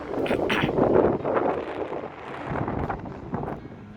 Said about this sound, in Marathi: माझा आवाज येत नसेल कदाचित, हवा येते भरपूर.